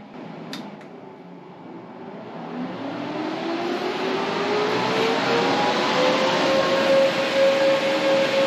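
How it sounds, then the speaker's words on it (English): Cooling fans on an OctoMiner X8Ultra mining rig built with AMD Vega 56/64 cards whir steadily, their airy rush swelling louder over several seconds with a rising whine. No one speaks. "the fans are down to idle now. Oh wait, no, they're going even lower."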